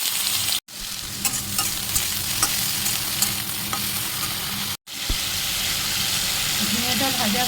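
Chopped ridge gourd fries in a pan with panch phoron and a whole green chilli, a steady close sizzle broken by repeated stirring scrapes and clinks, with two brief dropouts.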